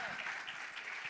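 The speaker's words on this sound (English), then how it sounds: "A big round of applause for them." Applause for finalist teams at a prize announcement event, a soft, distant hiss of many hands clapping, faint and brief.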